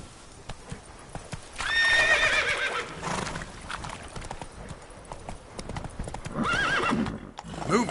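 A horse gallops in the Witcher 3 video game with rhythmic clip-clop hoofbeats, neighing and whinnying now and then, while a voice speaks briefly over the hooves.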